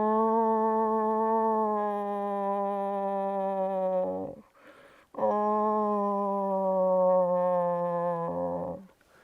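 A person imitates a soft, whiny close-range moose call with the nose plugged, two long drawn-out nasal moans with a brief gap between them, close and alone.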